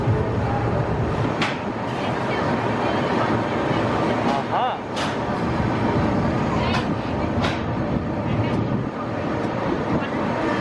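Double-decker express train pulling out of Chennai beside the Vijayawada Janshatabdi, a loud continuous rumble of rolling wheels and carriages with sharp rail clanks and squeals scattered throughout, heard close by.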